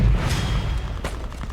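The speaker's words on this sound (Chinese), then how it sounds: "怪不得这枪炮声响得这么激烈" Intense wartime gunfire and artillery boom out in a heavy continuous roll, with a deep thud at the start and a sharp crack about a second in. No one speaks.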